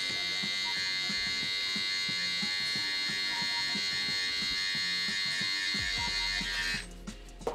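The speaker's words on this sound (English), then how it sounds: "I'm gonna go ahead and use my trimmer and the shaver" An electric hair trimmer buzzes steadily and close during a home self-haircut fade, a constant bright whine with no talk, shutting off near the end.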